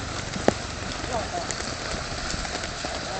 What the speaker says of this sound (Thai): ตอนนี้ฝนตกนะครับ